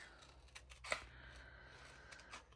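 Scissors make a few quiet snips through paper pieces for a journal, one sharp close cut standing out among faint rustling and no talking.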